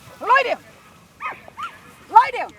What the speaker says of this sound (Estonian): Ja need koerad töötavad kogu aeg.